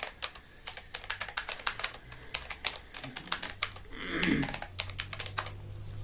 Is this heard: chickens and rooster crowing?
no